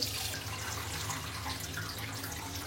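Rice is washed in water while cooking beef khichuri, with soft, close splashing and sloshing of water in a pot, faint and continuous, with no talk.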